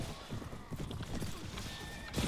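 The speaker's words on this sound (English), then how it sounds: "we're moving so fast on this horse now" Horse hooves galloping fast in the video game Prophesy of Pendor, rapid rhythmic clip-clop under game noise and faint voices, moderately close.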